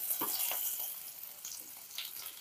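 Small chuno fish fry in a pan over medium heat, a soft steady sizzle broken by a few sharp clatters and scrapes as the pieces are flipped.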